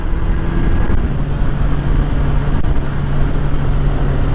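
A Kawasaki Z900SE motorcycle engine held at about 4,000 RPM near a church in Manaoag, a loud, steady close-up drone with no talk.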